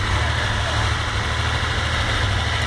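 A silver 240 car's engine idles steadily with the hood open, a continuous low rumble holding even and close throughout, with no speech over it.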